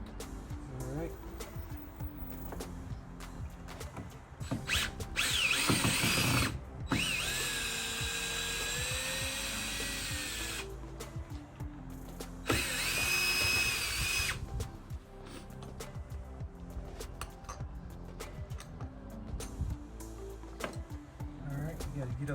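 A power drill whirs in short bursts while backing out storm door screws, two main runs several seconds long with quieter pauses between, and someone speaks intermittently around them.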